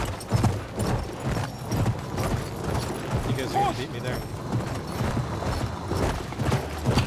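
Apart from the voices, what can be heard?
horse hooves galloping in video game Battlefield 1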